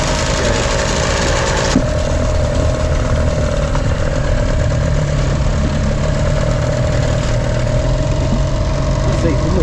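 A boat engine idles a little fast, a steady close, loud rumbling drone that runs unbroken while people talk over it.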